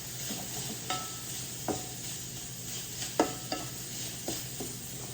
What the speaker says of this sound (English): Now keep stirring up our